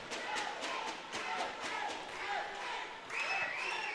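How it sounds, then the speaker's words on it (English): Hockey crowd cheering after a hat-trick goal gives a steady, dense roar of voices and whistles, loud and continuous, swelling again near the end. "the Drafday fans are cheering loudly"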